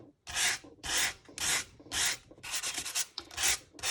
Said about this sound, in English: I'm going to just sand some of that color off